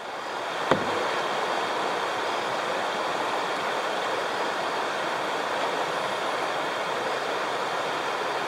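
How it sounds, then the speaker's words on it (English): The Haw River in North Carolina flows with a constant, moderate rushing hiss, steady and continuous after a single brief click near the start, with no talking. "see that water flowing like it is"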